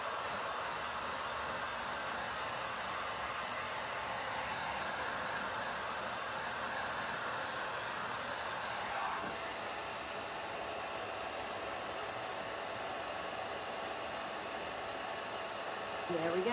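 A heat tool blows steadily over a wood appliqué on painted furniture, softening it for bending, a constant airy hiss at close range with a slight change partway through.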